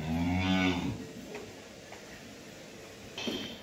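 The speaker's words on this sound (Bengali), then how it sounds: "এই হলো আমার একটা ৮ নাম্বার একটা ফ্রিজিয়ান বকনা বাছুর" A Friesian heifer calf moos twice, a drawn-out call at the start and a shorter one near the end, close and clear with quiet farm background in between.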